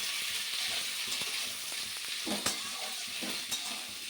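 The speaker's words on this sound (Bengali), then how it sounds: "দিয়ে একটু নাড়াচাড়া করে নেব।" Spinach ghonto is stirred in a frying pan after salt goes in, a soft continuous sizzle with occasional scrapes and clinks of the spoon against the pan, close and quiet with no talking.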